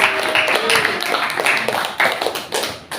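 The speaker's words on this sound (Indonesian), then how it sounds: "Beri tepuk tangan untuk Syafir" A classroom group claps hands together in a brisk, lively burst of applause that lasts a few seconds, with some voices faintly mixed in.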